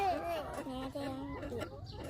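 Chickens cluck close by at a farm where eggs are being gathered, a run of short, broken calls mixed with people talking.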